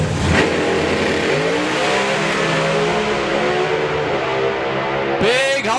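Nitrous and blown drag racing cars launch together down the strip at a drag racing festival, a loud sustained engine roar rising steadily in pitch for several seconds before a sharp break as the engines cut.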